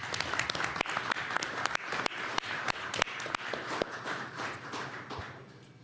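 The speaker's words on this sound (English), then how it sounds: "Give yourselves a round of applause" Applause from the audience at a mayor's press conference honoring the FDNY, loud and scattered with sharp individual claps standing out, steady for several seconds and then tapering slightly toward the end.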